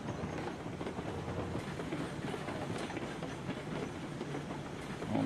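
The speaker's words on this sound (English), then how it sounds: "Let me go ahead and stop the train the way I don't accidentally derail this damn thing." A train rolls along the rails in the Railroads Online game on PS5, a quiet, steady rumble with a faint rhythmic clatter and no voices.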